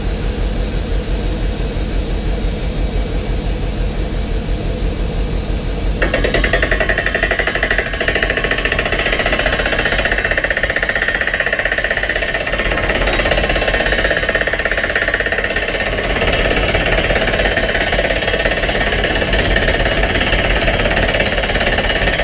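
A loud, continuous mechanical roar and rattle from a heavy borehole drilling rig runs throughout, shifting in tone partway through but never letting up.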